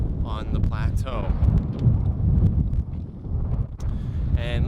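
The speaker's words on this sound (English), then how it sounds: "it is really windy" Strong wind buffets the microphone on the Knuckles mountain plateau in Sri Lanka, a loud continuous low roar with gusts, while a person talks over it at the start and end.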